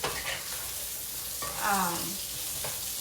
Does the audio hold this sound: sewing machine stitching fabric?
no